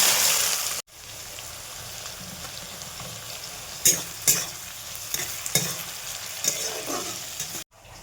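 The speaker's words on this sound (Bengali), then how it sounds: "দিয়ে দেবো তেজপাতা, এর মতন কাঁচা লঙ্কা চেরা। পেঁয়াজটা আমি একটু চটকে দেবো।" Onion, bay leaf, cinnamon and slit green chilli frying in a pan for chicken kosha, a steady close sizzle with a loud burst at the start and several sharp stirring knocks and scrapes.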